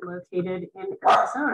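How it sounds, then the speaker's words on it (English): A dog barks in short bursts indoors during an online college fair presentation, the yelps mixed in with a person speaking close to the microphone. "I apologize about my dog barking for absolutely no reason."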